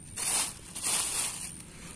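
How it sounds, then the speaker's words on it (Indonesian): Crinkly plastic bag rustling as a horned toy dinosaur is pushed inside, in two close, fairly loud bursts of crackling with a quieter rustle trailing off, no talking. "kita masukin ke dalam plastik teman-teman."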